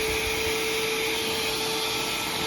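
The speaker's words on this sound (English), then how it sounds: "Let's turn this vacuum on and let's save some money." A vacuum cleaner runs loud and steady while an HVAC unit is cleaned, its constant whining drone with a high tonal hum holding unchanged throughout and no voices over it.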